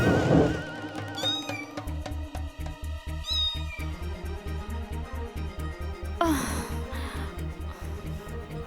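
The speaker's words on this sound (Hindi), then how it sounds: "लगता है वो नकचड़ी बिल्ली आज फिर आ गई है।" A cat in an animated Aladdin series meows several times in rising, wavering cries over rhythmic background music, loud and close, with a sharper yowl near the end.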